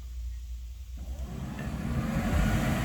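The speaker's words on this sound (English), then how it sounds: "Vintage air, blower motor's working." A Vintage Air blower motor running in a 1957 Chevy pickup, a steady whirring fan that swells louder after the first second and keeps building, close by with no talking.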